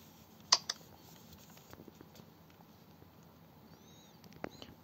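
Faint, scattered clicks of buttons being pressed on a GPD XP+ gaming handheld, one sharper tap near the start and a few softer presses after, over low background hiss.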